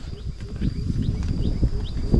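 Birds chirp in short faint calls over a rice field, repeated small notes above a steady low rumble of wind and outdoor noise.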